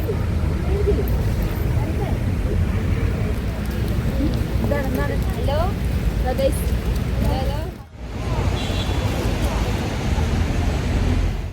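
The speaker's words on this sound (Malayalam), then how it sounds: "മഴയായി ഗൈസ്, മഴയായി." Steady rain falling on a London street, a dense broadband wash that continues for the full stretch apart from a brief dip, with a voice talking over it and traffic in the background.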